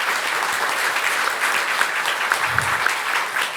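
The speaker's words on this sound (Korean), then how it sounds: "박수 한번 보내주시죠" Audience applause at a Korean policy forum on women's entrepreneurship, a sustained, fairly loud roomful of clapping with a few sharper individual claps standing out, no talk over it.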